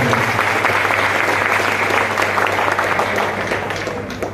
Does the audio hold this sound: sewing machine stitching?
no